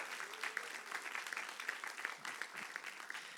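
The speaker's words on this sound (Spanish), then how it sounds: "dale ese aplauso fuerte si usted está convencido de eso" A church congregation claps during a Spanish-language Sunday morning sermon, a dense patter of many hands that stays faint and distant throughout with a few sharper individual claps standing out.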